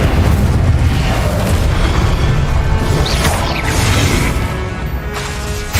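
Spell effects in Hogwarts Legacy, with Depulso, Glacius and Incendio cast in quick succession, producing loud, continuous booming blasts and crashing impacts that overlap without pause.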